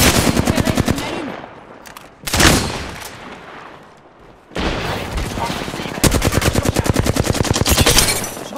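Bursts of rapid automatic gunfire from the Apex Legends video game, loud and close, with a quieter lull in the middle before heavy firing resumes.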